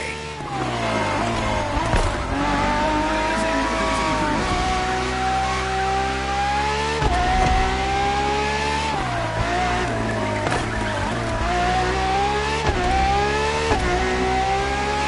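A Ferrari FXX K supercar races in The Crew Motorfest, its engine roaring steadily and loud, climbing through revs and dropping at each gear change across a long continuous run.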